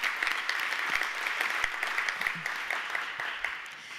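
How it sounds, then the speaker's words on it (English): Sustained crowd applause at the Select LA Investment Summit 2018 in Los Angeles, a dense steady patter of many hands clapping from start to finish with a few sharper nearby claps standing out. "just another round of applause for everybody"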